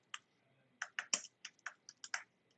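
Fingers type a short command on a computer keyboard: a quiet, close burst of about ten crisp key clicks in an uneven rhythm, with no voice.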